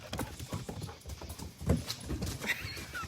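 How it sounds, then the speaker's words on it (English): Puppies tussle on a wooden deck in a scuffle of thumps, scrabbling paws and small growls and yelps, close and irregular, with brief bursts of activity and no talk. "It's a puppy fight."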